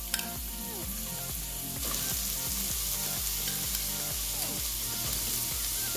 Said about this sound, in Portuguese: Vou colocar aqui e vou estar refogando.